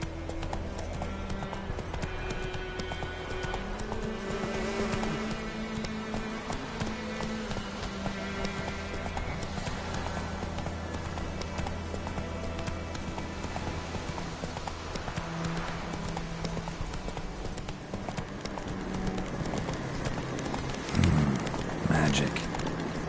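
A horse gallops in The Witcher 3 video game, its hoofbeats a steady, rapid clip-clop that runs throughout under ongoing talk.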